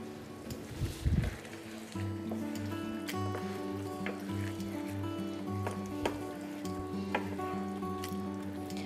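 Mushrooms and pesto mince sizzle in a pan, a soft, continuous crackle under a steady low hum, with a few brief stirring knocks near the start and no speech.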